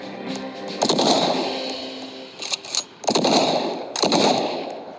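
A pistol fires in the Roblox game Bake or Die. Loud clusters of sharp, rapid shots come in three or four bursts with short quiet gaps between them.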